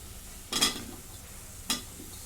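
Drumsticks (moringa pods) dropped into a hot pan and stirred in a home kitchen, two short bursts of sizzling and scraping against a quiet background.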